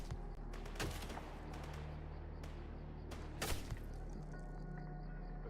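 Rifle firing single shots in the shooter game S.T.A.L.K.E.R. GAMMA: a few sharp, separate cracks spaced a couple of seconds apart, loud and close, over a low steady hum, with no talking.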